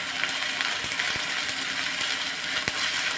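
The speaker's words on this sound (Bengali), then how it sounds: "শুটকি রান্নার জন্য প্রথমে এই মশলাটা ভালো করে কষিয়ে নিতে হবে।" Spice paste with garlic sizzling and frying in a pan for a dried fish curry, a steady hiss with occasional spatters and stirring clicks, close and continuous with no voices.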